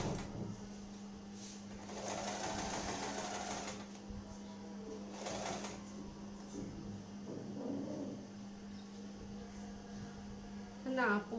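Small household sewing machine stitching baby frock fabric, a steady close mechanical whir with a constant hum underneath, rising in short bursts, while someone talks over it.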